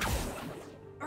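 Bombarda blasting spell cast in Hogwarts Legacy: a single loud crashing burst with a whooshing tail that fades over about a second, followed by a brief swell at the end.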